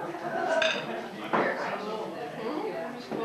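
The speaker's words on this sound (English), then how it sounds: "Just scrape it off the sink with a spoon and we'll put it on the pie." A metal spoon scrapes and clinks against a sink, picking up leftover food in a short, busy burst of utensil sounds with people talking close by.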